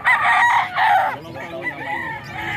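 A Sweater gamefowl rooster crows loudly and close by, with two strong harsh bursts followed by a trailing, wavering call, and no other sounds around it.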